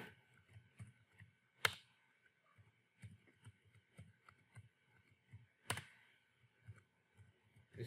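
Quiet computer keyboard typing, a sparse run of light clicks and key taps at irregular intervals, with two sharper louder clicks standing out, close and faint against a near-silent room.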